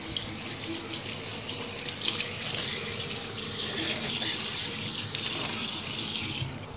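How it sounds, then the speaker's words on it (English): Water runs steadily from a bathroom sink tap while a face is rinsed, a close continuous splashing hiss with small shifts in flow as hands move through the stream. "so now it's time to rinse it off."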